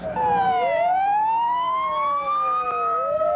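Airport fire trucks race to a burning plane crash at Dallas-Fort Worth in 1988, their sirens wailing loudly with overlapping rising and falling sweeps, close and unbroken, with no talk.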